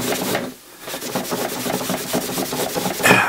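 Abrasive rubbing paint off the trigger guard of a new gun to give it a worn look, a close, continuous rasping scrub in quick back-and-forth strokes, briefly pausing near the start, with no voices.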